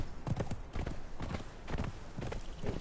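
Horse hooves in the video game Conan Exiles clop in a quick, even rhythm of close, moderately loud strikes, trotting steadily over a dull background.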